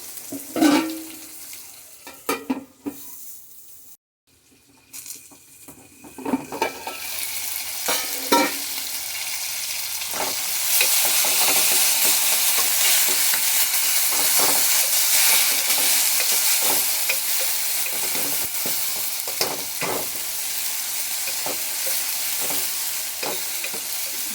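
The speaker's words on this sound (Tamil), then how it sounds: "கொஞ்சமாக உப்பு போட்டு நல்லா வதக்கிட்டு" Onions and spices being stir-fried with a little salt for a Mangalore-style fish curry, with a loud, continuous sizzle and repeated scraping strokes of a spatula in the pan.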